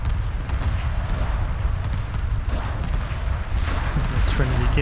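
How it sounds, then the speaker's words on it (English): The Trinity cannon firing from a battlecruiser in Homeworld 2 Remastered, heard as dense, continuous rumbling booms and blasts under space-battle noise, with game voices talking over it. "The Trinity cannon going off on the battlecruiser."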